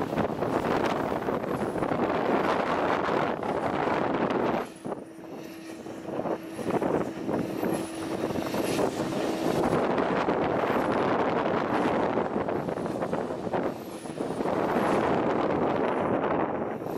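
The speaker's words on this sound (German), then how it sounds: "Jetzt wird's windig" Strong wind at a wind farm buffeting the microphone in loud roaring gusts, easing briefly in the middle before rushing back, with a faint engine drone underneath.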